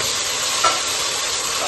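Ginger garlic paste with cumin, pepper, mace and other whole garam masala spices fry in hot oil in a pan, a steady close sizzle with a brief stir partway through.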